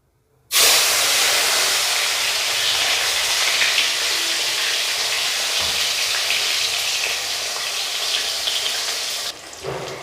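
Pomfret fish rubbed with salt and turmeric drops into hot oil and bursts into a loud, steady hissing sizzle that holds for several seconds before easing off abruptly near the end.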